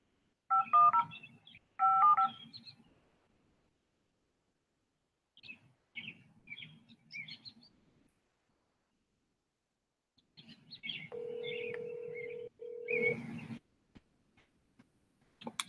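A phone dialing out, with short bursts of keypad tones followed by a long steady dial tone, quiet and close, separated by brief gaps of silence.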